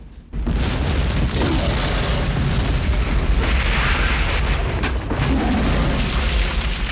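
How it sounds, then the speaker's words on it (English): Large practical explosions from the finale of the 1998 film The Mask of Zorro, done for real: a sustained, loud roaring blast with deep rumbling booms and crackling bursts that fill the whole stretch without letup. "the biggest effect in the film is the explosive finale at the end, which was done all for real"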